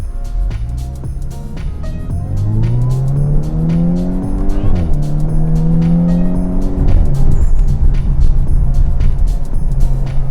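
An Audi A5 S-Line convertible accelerates hard with its tires squealing. The engine note climbs through rising gears, with a shift partway through, loud and close, while a faint voice comes and goes.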